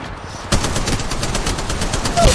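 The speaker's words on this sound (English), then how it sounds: "Opening fire." Rapid automatic gunfire in Apex Legends Mobile bursts in loud and close after a brief quiet moment, then continues as a dense, sustained volley.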